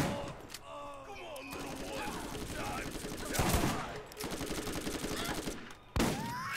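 Gunfire in the video game Borderlands Remastered, a few scattered shots and bursts over game noise and a talking voice, with a louder blast near the middle and another close to the end.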